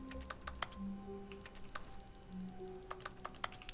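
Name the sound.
keyboard typing in the video game The Stanley Parable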